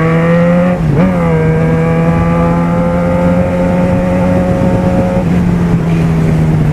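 A Yamaha XJ6 motorcycle engine drones steadily at close range on a potholed town road, with a brief dip and rise in revs near the start, then holding a constant throttle note.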